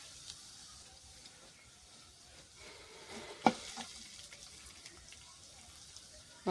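Ginger frying in a pan, part of a village-style chicken bharta being cooked: a soft, steady sizzle with scraping stirs and one sharp clatter midway.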